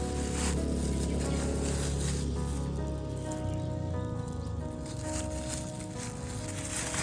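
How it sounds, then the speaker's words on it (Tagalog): Rain falls steadily, a dense, constant hiss of drops on surfaces, loud and close throughout with no voices. "So ito yung ulan natin."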